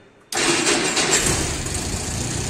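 The engine of a Ford car more than 80 years old fires up abruptly after a moment of near silence, then settles into a loud, steady running roar close by.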